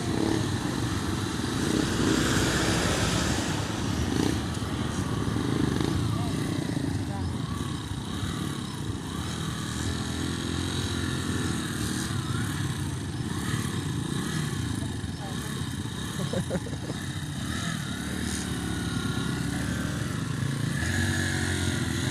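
Motorcycle engines droning and revving nearby on a group riders' outing in Bicol, with people talking over the steady motor noise.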